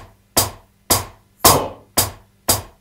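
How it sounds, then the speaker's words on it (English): A drum kit hi-hat is struck in a steady beat: five crisp, sharp hits, evenly spaced about half a second apart, each decaying quickly, close and loud, with no voices. "Let's do four groups of four hi-hats."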